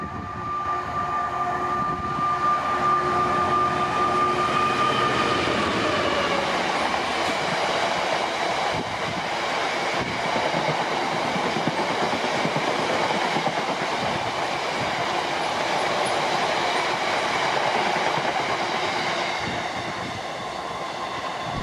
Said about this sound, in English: I heard the roar of a heavy diesel train approaching.